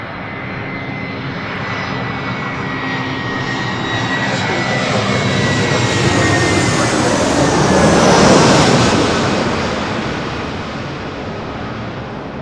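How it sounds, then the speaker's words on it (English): A Delta Airlines Airbus A321 jet arriving from Detroit roars steadily overhead, swelling to a loud peak near the end before easing off, alone without talk. "This is Delta Airlines 908 coming in from Detroit on an A321."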